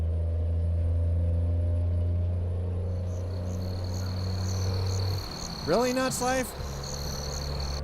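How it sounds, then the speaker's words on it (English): Crickets and frogs chirp and croak through a night scene in American Truck Simulator, a thin steady insect trill with low croaks under a constant engine drone, and someone briefly speaks over it. "Crickets?"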